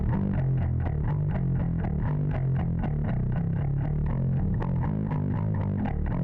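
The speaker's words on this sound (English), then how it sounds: "you can hear it breaking up and adding some more distortion" Distorted bass guitar runs through a WA76 compressor with all buttons in for an aggressive, breaking-up tone, playing a steady rhythmic riff of repeated plucked notes inside a dense, loud mix with no pauses.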